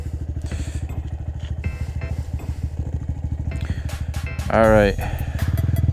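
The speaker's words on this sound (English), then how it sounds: "gonna let it idle a little bit. Get the juices flowing again. Honda Grom juices." A Honda Grom motorcycle engine idles steadily with a low, even putter, close and loud throughout, briefly masked by a louder burst near the end while someone speaks over it.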